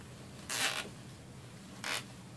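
A plastic zip tie ratcheting tight on a bicycle wheel wreath craft gives two short, bright zipping rasps about a second apart, close and clear over a quiet room.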